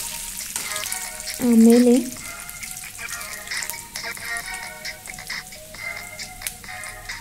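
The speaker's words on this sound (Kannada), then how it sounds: "ಗುಂಟೂರು ಮೆಣಸಿನ್ಕಾಯಿ ಹಾಕೊಂಡು ಫ್ರೈ ಮಾಡ್ಕೊಳ್ಳೋಣ. ಚೆನ್ನಾಗಿ ಫ್ರೈ ಮಾಡ್ಕೊಳ್ಳಿ." Guntur red chillies frying in a pan, a steady soft sizzle that runs through the whole stretch, with a brief spoken word partway through.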